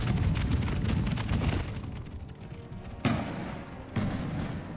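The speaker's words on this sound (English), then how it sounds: "my guys just got hit by my own shrapnel shot" Shrapnel shot bursting on a battlefield in Empire Total War, a dense rumbling clatter of explosions followed by two sharp separate booms, each decaying quickly against a backdrop of distant battle noise.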